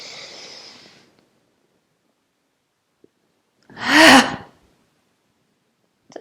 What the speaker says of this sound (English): Holding the breath a little bit and strong exhalation.